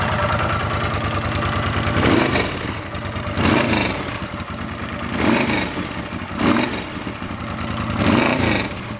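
A Honda Trail 125 motorcycle engine runs close by in a shop, a steady idle thrum rising in several throttle blips, with no talk.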